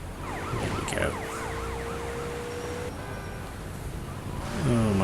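A police car siren wails in the GTA Liberty City Stories video game, its rising and falling yelp cycling continuously over engine noise and game effects, shifting pitch near the end.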